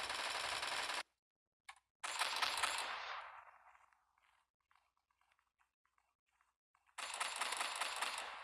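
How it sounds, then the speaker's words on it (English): Rapid bursts of MK11 rifle fire in the Bullet Force shooter game: a loud stretch of shots, a pause with a couple of faint clicks, another burst trailing off into a fading echo, then heavy fire resuming. "We'll switch to our MK11 so we can just shoot faster."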